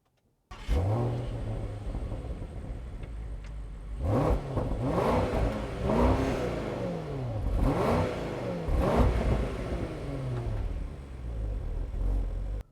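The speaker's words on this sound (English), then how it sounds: "All right, so full-size Range Rover. Let's see what it drives like." The new full-size Range Rover drives along the road, its engine rising and falling through repeated accelerations with a smooth, clear mid-range hum and a steady undertone of road rumble; no one speaks.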